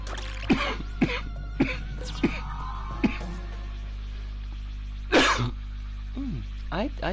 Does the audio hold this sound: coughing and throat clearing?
yes